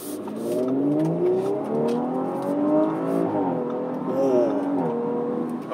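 A 2019 Audi RS5 Sportback launches hard on cold tires, its engine note climbing loud and steady through rising revs and gear changes, close by from inside the car.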